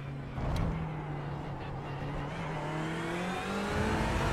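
A race car accelerates at full throttle out of a corner toward a long straight, its engine note climbing steadily in pitch as it pulls hard, loud and close, continuous with no talking.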